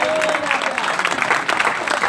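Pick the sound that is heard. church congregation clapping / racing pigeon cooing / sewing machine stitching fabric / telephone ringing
church congregation clapping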